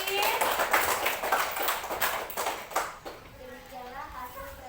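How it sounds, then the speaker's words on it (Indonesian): A school class claps for a group after its presentation, with a burst of dense, scattered hand claps for about three seconds that then fades into quieter room sound. "beri tepuk tangan untuk kelompok strawberry"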